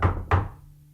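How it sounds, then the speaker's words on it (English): Two sharp knocks land on a door in a quiet room, evenly spaced and close by, each a crisp thud with a short decay and no voices around them. "there was a knock at my door"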